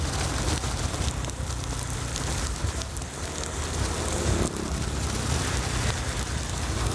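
Rain pours steadily during a motorcycle ride, a dense, constant hiss mixed with wind rush and low engine rumble throughout.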